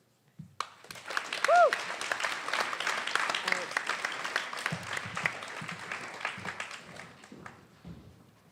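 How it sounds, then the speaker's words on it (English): Audience at a spoken word performance event for grade 11 and 12 students breaks into sustained applause, a dense wash of clapping lasting several seconds and slowly thinning, with a brief whistle or cheer early and a voice speaking as it fades. "let us give the warmest, hugest round of applause to Jenny Lauda"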